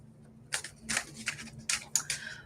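Tarot cards being shuffled by hand during a live reading, several quick papery riffles and slaps in uneven bursts, fairly close and quiet.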